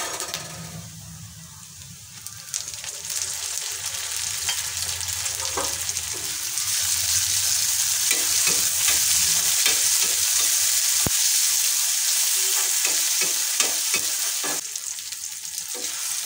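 Chopped tomato sizzles steadily in a hot pan while being stirred for a coriander-leaf bhorta, the frying hiss swelling louder midway with scattered scraping clicks of the spoon.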